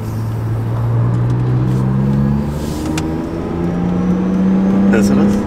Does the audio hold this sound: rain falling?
no